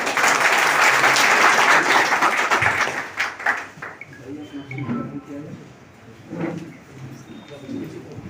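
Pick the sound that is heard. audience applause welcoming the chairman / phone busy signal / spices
audience applause welcoming the chairman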